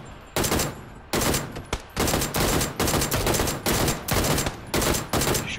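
Rapid bursts of automatic gunfire in a PUBG match, loud and close, firing in repeated volleys with brief gaps between them and no talking over the shots.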